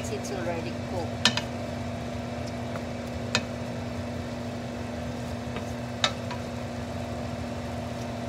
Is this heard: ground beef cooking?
yes